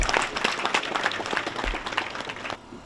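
Audience applause at a political support rally in Bantè for the Wadagni-Talata ticket: dense, steady clapping from a crowd for about two and a half seconds, then a sudden drop to near quiet.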